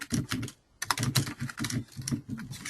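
Fingers type on a computer keyboard in bursts of quick, close clicks. A short pause comes after the first half-second, and then a faster run of keystrokes follows.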